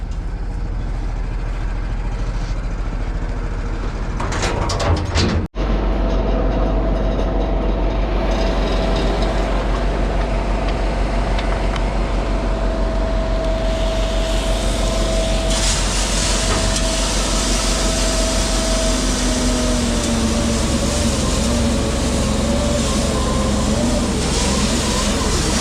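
Farm tractor engine drones and strains steadily while pulling a barley seed drill, a loud continuous low rumble with a rising mechanical whine, after a brief clunk near the start.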